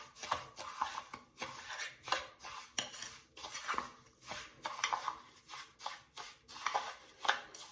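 A spoon scrapes and clinks steadily around a bowl while coconut oil is stirred with brown sugar into a body scrub, soft close rhythmic stirring with no talking.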